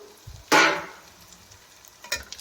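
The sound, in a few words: frying and stirring cabbage for egg bhurji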